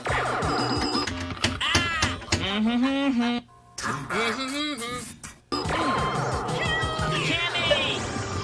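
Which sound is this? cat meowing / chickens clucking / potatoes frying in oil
cat meowing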